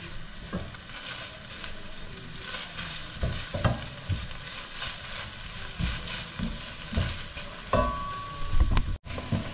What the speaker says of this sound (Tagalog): Ayan guys, igisa na natin ng mabuti.